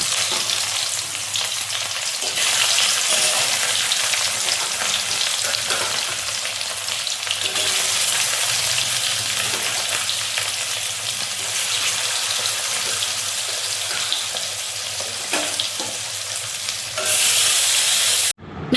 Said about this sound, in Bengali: এখন মাছ ভাজবো